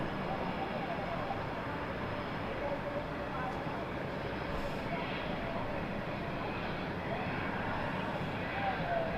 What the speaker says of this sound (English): And inbound with the easyJet as well